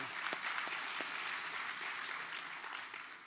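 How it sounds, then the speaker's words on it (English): Audience applause at an anniversary celebration and awards gala, a steady wash of clapping from a crowd that holds evenly and fades only slightly over a few seconds. "that deserves a round of applause"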